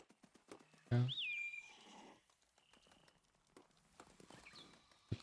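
Horse in the game Ghost of Tsushima, a loud close whinny then hoofbeats and riding noise fading under ambient game sound.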